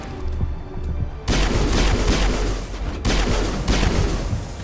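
Gunfire in Mass Effect 1 Legendary Edition: a dense, loud barrage of shots and booms bursts in after a quieter opening second and keeps up as a sustained, rapid volley with brief dips.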